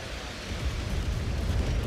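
Airstrike explosions in the video game MechWarrior 5: Mercenaries, heard as a dense, continuous low rumbling barrage that rolls on steadily without distinct separate blasts or any talking.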